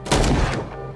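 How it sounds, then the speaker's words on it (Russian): Two gunshots ring out in the video game Call of Cthulhu, sharp close bursts in quick succession followed by a brief decaying echo. "Все, два раза выстрелил и все"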